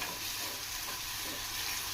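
Prawns fry in oil with curry leaves over a medium flame, Andhra style, giving a dense, even sizzle that holds steady and loud throughout with no voices.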